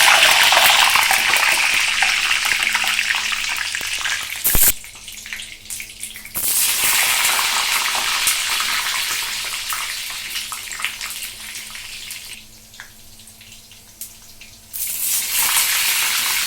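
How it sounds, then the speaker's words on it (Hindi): Brinjal slices drop into hot oil for deep frying in a Sindhi-style crispy brinjal recipe, setting off a loud, close, hissing sizzle that rises and falls in bursts as more pieces go in. "गरम तेल हो गया है, अच्छे से गरम हो गया, इसमें मैं ये बैंगन डाल दूंगी"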